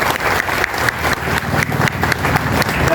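Loud, close applause from an audience at an Independence Day awards celebration, with many hands clapping in a thick, continuous burst throughout.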